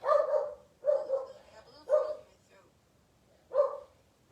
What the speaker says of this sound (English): Of course I'm going to start and Aurora's going to start barking